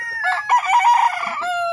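A gamecock, the brood stag Lemon 84, crows once up close, a loud drawn-out cock-a-doodle-doo lasting about a second and a half with no talk over it.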